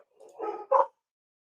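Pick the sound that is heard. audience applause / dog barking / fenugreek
dog barking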